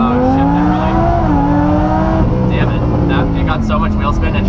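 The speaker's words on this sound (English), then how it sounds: "So much wheel spin and shifted into second at the start" A Lamborghini Huracan launches hard from a standing start with heavy wheel spin, its engine roaring loud and close as the pitch rises, then drops at the shift into second before climbing again, with voices talking over it inside the car.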